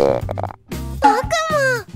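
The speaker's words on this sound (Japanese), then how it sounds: "あ、お腹鳴っちゃった" Stomach growling during a lunchtime skit for children: a burst of low, grunting, gurgling rumbles with pitched, warbling tones, close and fairly loud, with brief voice-like sounds mixed in.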